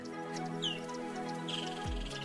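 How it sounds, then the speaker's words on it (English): Birds twitter and chirp during a safari drive, short thin high calls scattered over a faint steady hum, quiet and somewhat distant. "Their twittering, chirping and singing fills the air with a bit of magic on every drive."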